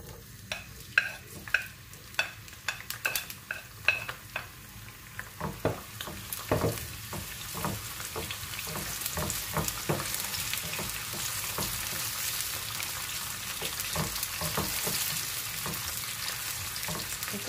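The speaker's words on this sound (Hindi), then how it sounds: "तेल गर्म हो गया अब इसमें मैं डालूंगी प्याज" Onions hiss and crackle in hot oil after a few scrapes and clatters of a utensil, the sizzle building to a steady, close fry.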